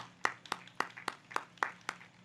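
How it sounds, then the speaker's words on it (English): Sparse, light clapping from a small audience at a Millbrook City Council Ward 4 candidate forum, about eight distinct claps spaced roughly evenly, fairly quiet. "let's give another round of applause for both of the candidates from Millbrook City Council Ward 4"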